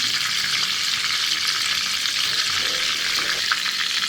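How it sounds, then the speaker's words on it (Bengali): Desi chicken frying in oil left from frying onions, with bay leaves and whole garam masala, giving a dense, continuous, close sizzle at an even level with no talk. "আমি পেঁয়াজ ভাজার তেলে মুরগিটা বসাই দিব রান্না করার জন্য তেজপাতা গোটা গরম মশলা দিয়ে দিলাম"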